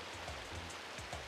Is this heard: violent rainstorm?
yes